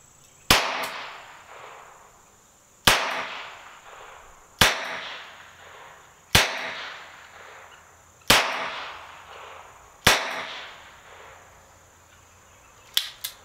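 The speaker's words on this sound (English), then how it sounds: "There's 6 shots of the CCI quiets." Six sharp, quiet cracks from CCI Quiet .22 rounds fired double action in an RG 14 revolver, evenly spaced about two seconds apart, each with a short decaying tail, close to the listener.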